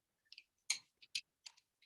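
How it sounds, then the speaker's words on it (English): Sparse, sharp little clicks and taps of colored pencils, close and quiet, in an irregular pattern against near silence. "I hope that clicking of my color pencils isn't super loud for you guys"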